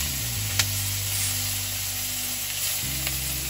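Very hot oil sizzles steadily in a paella pan, a close, continuous crackling hiss with a couple of small sharp pops and a low hum beneath.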